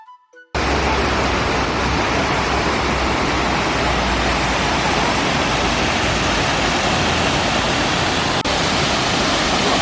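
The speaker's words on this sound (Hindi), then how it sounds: "अभी हम लोग आ गए हैं ये दूधन वाटरफॉल पे।" Düden waterfall in Antalya, Turkey roars as a loud, dense, continuous rush of falling water that starts abruptly and holds steady with no voices.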